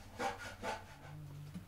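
Hand sanding of a boat's interior surface, heard as two close, rasping strokes followed by a fainter rub at the end, with no voices.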